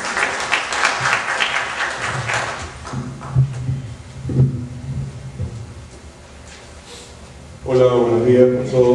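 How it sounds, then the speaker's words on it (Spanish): Applause from a seminar audience at an arbitration course, welcoming a speaker, heard as a brief clapping burst at the start, then fading under room noise before a second loud round of clapping near the end. "Por favor, un fuerte aplauso"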